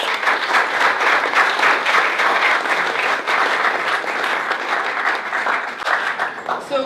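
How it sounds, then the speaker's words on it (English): An audience at a developer-jobs tech talk applauds steadily and loudly, with dense, continuous clapping that holds for about seven seconds before easing slightly at the end. "Please, can we give them a round of applause?"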